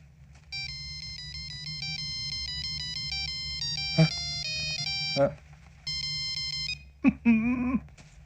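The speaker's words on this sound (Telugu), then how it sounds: "ring tone sir" Melodic mobile phone ringtone playing a tune of bright electronic tones, fairly close and clear, with short gaps and a few brief voices cutting in near the end.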